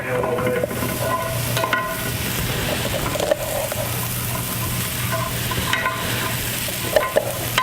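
Green garlic stirred in an overly hot pan, sizzling and frying steadily with scraping stir strokes and occasional sharper clinks, close and continuous throughout.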